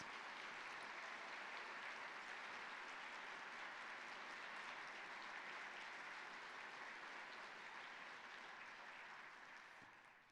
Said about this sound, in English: another round of applause for that very powerful performance